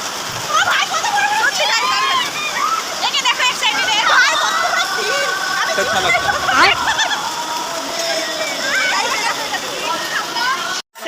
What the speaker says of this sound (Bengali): মানে হচ্ছে শিলাবৃষ্টি হলো